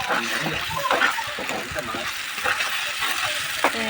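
Paneer curry frying and being stirred in a pan, a steady broadband sizzle with repeated scraping strokes of the spoon throughout, with a voice talking over it.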